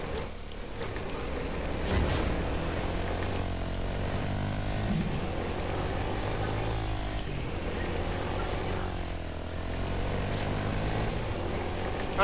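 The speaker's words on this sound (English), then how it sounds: "Oh, right here, the plane." Propeller airplane droning steadily overhead in a multiplayer shooter video game, a continuous engine hum with shifting pitch that stays loud throughout, mixed with game noise and no talk.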